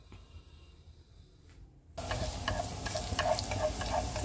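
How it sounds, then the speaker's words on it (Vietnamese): Shallots stir-frying in cooking oil in a pan. The first two seconds are near silent, then a steady close sizzle starts with faint scraping stirs and no talk. "Mình xào thơm hành tím lên các bạn"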